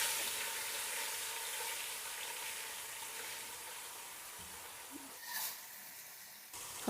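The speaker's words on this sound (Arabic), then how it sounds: "نقلب كل ده كده مع بعضه" Rice with turmeric is stirred in a hot pot, giving a steady, fairly faint frying hiss throughout, with a short clatter of the spoon near the end.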